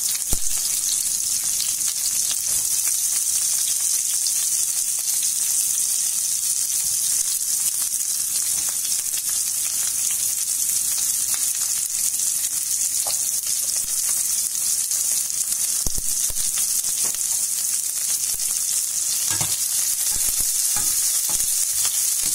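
Small shallots with curry leaves sauté on a slow flame for Chettinad chicken curry, giving an even, unbroken sizzling hiss with occasional faint stirring taps.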